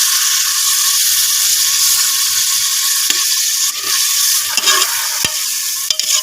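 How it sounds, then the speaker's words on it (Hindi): Ginger, garlic, green chilies and tomato fry in a pan with a loud, steady sizzle, broken by sharp clicks and scrapes as a utensil stirs the mixture. "जिंजर गार्लिक और सब्ज़ मिर्चों को भी हम हल्का सा फ्राई कर लेंगे इसी में।"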